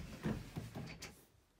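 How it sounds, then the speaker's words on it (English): Soft rolling and a few light knocks as sliding closet doors in a 2018 CrossRoads Redwood 3921GK fifth-wheel RV glide open, quiet and close, fading into near silence. "We slide open these doors over here."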